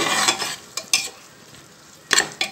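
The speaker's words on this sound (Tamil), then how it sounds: "இந்த காய் கொஞ்ச நேரம் நல்லா அந்த இதுலயே வதங்கட்டும்." Grated beetroot sautéing in a pan for beetroot biryani, a soft sizzle broken by a few short scraping stirs of a spoon, close and fairly quiet.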